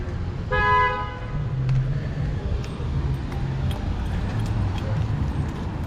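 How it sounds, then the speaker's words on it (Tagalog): Street traffic in Canada with a car horn honking in a short burst early on, followed by a continuous rumble of passing vehicles, fairly close and loud. "traffic pa rin oh"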